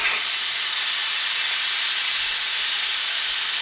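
An Instant Pot cooking rice vents steam in a loud, continuous, steady hiss that fills the whole stretch without pause.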